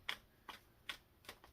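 Tarot cards being shuffled in short bursts, four crisp riffling flutters spaced roughly evenly, close and quiet with no talking.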